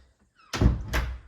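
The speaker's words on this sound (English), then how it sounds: "We're now going to head out through the side door" The side door of a house opens with a sharp thump and rattle followed by a second knock, close and brief, with no voices.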